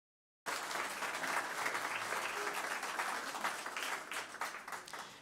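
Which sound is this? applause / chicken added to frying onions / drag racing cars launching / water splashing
applause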